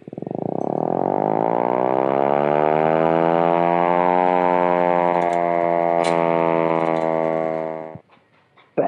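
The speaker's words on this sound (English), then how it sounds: "And of course, your World War II air raid siren." A World War II air raid siren winds up into a loud, sustained wailing tone that holds steady for several seconds, then drops away abruptly, followed by faint clatter.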